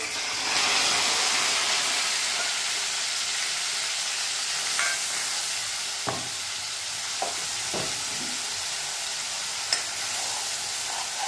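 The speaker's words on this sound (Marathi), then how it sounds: "तेल गरम झालंय आता आपण हा हिरवं वाटण टाकून देऊ" Green masala paste sizzles as it hits hot oil in a pan, a loud, steady frying hiss that holds throughout, broken by a few sharp pops and spatters.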